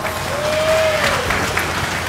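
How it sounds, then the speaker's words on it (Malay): Applause from a crowd at a political rally of Perikatan Nasional and PAS in Kedah, steady and broadband, with a brief sustained tone from the sound system partway through. "satu tepukan kepada beliau"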